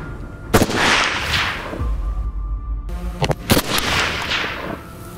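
Rifle shots ring out at a military shooting range, with several loud, sharp reports heard close up. Each crack is followed by a booming echo, and the shots come in irregular spacing over about five seconds.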